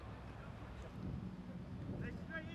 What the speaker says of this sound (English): This wind might cause a few of these players a problem, but it's quite blustery